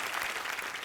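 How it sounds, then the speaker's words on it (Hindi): A crowd applauds in a steady, dense wash of clapping, moderately close and fairly even in level, with no voices breaking through, at a comedy film cast event. "ताली बजानी चाहिए"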